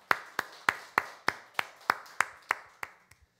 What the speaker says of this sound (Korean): 박수로 환영하시죠